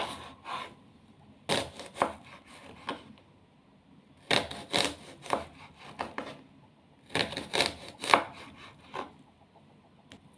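Red onion being chopped on a board for a salad, bursts of quick knife taps in clusters separated by short pauses, close and clear with no talking.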